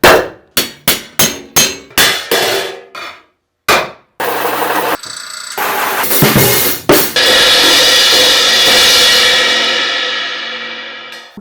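Cymbals hammered by hand in a workshop: a rapid series of loud, ringing metallic strikes, followed by a sustained bright shimmering wash with further hits, close and loud, with no talk.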